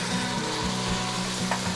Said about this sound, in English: Just gonna sizzle it, goes in there.